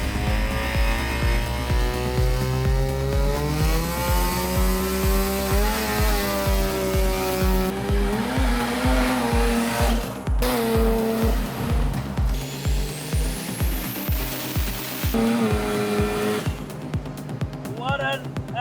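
A turbocharged rotary-engine Mazda RX-3 running E85 through a C4 automatic gearbox and 9-inch diff screams hard under acceleration, its rising wail climbing and dropping again through a rapid run of gear changes, loud and close throughout.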